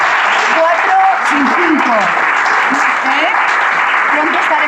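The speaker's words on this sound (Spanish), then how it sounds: "Y otro aplauso, por favor" An audience gives sustained applause for a guest at a talk event, dense continuous clapping with a voice speaking over it.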